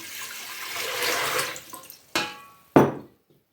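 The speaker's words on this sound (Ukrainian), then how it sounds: "Для початку я в каструлю наливаю воду" Water pours into a saucepan for a crucian carp marinade, a steady splashing stream that tapers off, followed by two shorter, sharp pours that end abruptly into quiet.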